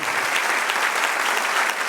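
Dense, sustained clapping rises from a church congregation mid-sermon, many hands together forming an even, loud roar of applause with no break.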